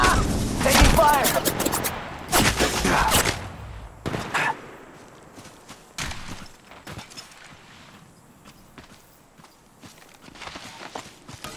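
Bursts of gunfire in the mobile shooter Apex Legends Mobile, with dense rapid volleys early on and sparser scattered shots later, mixed with footsteps and game effects.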